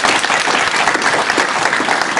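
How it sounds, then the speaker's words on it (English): Steady, dense applause fills a school board meeting room, many hands clapping together at even loudness throughout, with no voices standing out. "So I just want to give them a round of applause."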